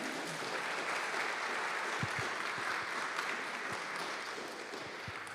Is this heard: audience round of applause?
yes